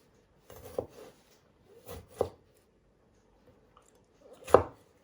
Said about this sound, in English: So what you do is you first slice it.